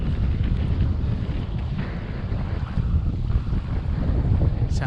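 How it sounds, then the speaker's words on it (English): Wind rushes steadily over a boat riding at anchor in a creek after a sudden wind shift, a dense, constant roar with gusty swells close to the microphone. "This looks like this has got some wind in it."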